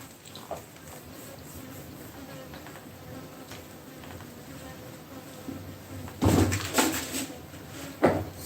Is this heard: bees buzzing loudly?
yes